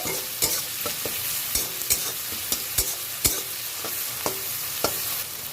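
Onion stirred and frying in a pan, a steady soft sizzle broken by regular sharp scrapes and taps of a spoon against the pan, close up and with no voices.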